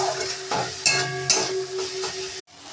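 Red amaranth greens frying in a pan with a little sugar added, stirred with a spatula: a continuous close sizzle broken by scraping strokes and soft clinks, cutting off abruptly near the end.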